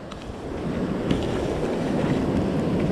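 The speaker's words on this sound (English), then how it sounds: "These waves, when they crash, they don't slam and then go far up the beach really powerfully." Ocean waves roll and break steadily on a beach during surf perch fishing before rain, a continuous washing roar with wind buffeting the microphone, no voices.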